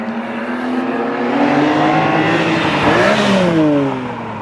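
A BMW E46 M3 engine revs hard with a raspy Megan Racing exhaust note, pitch climbing and dipping through a gear change, loud and close throughout.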